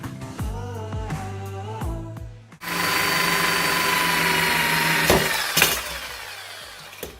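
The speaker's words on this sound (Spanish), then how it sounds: "ahora voy a estar haciendo un agujerito al lado del otro" A small power drill bores holes side by side in a motorcycle exhaust pipe on a Guerrero GXR250, starting with a few short taps, then one sustained high whine with brief bursts near the end.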